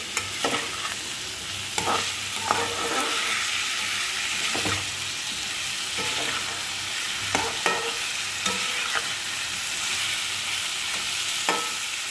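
Onions fry in a pan on a gas stove with a steady, loud sizzle, while a spoon scrapes and stirs at irregular intervals throughout; no one speaks.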